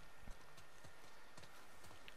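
Horse hooves clip-clop steadily in The Last of Us Part II, several horses walking over an ongoing outdoor ambience, with soft evenly spaced thuds at a moderate distance.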